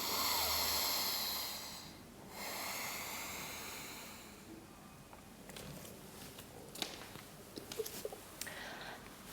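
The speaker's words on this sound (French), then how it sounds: "Je relâche d'abord et ensuite j'inspire." A long, breathy release of air followed by a softer inhale during uddiyana bandha yoga breathing, close and quiet, then faint rustles and small taps with no talk.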